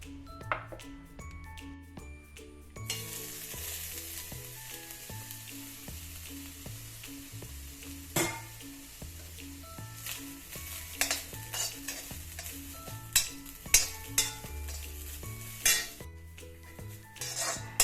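Grated coconut dry-roasting in a pan for a Kerala eggplant curry, with a spoon stirring and scraping against the pan over a soft steady sizzle, close and fairly quiet, with occasional sharper metal clinks.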